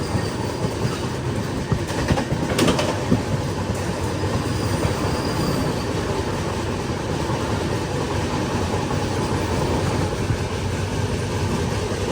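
A Gandhinagar Capital to Mumbai Central Vande Bharat train at Udhna railway station, a steady loud rumble of wheels and carriages rolling past for the whole stretch, with a brief sharper burst of rattling early on.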